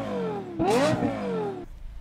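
A car engine blips hard close by, its note climbing and then falling as the revs die away, then cuts off abruptly into near quiet.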